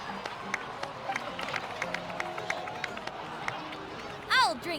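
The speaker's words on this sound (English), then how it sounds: "please give another round of applause for them" Crowd applause and cheering in a video game cutscene from the Natlan Archon Quest, a steady wash of clapping with sharp claps scattered throughout and a brief brighter burst near the end.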